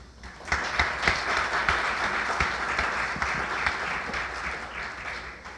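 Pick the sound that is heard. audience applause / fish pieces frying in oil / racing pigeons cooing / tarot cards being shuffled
audience applause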